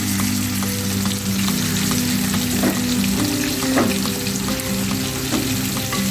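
Pieces of fish fry in hot oil with a loud, constant sizzle and occasional stirring clinks as they are turned.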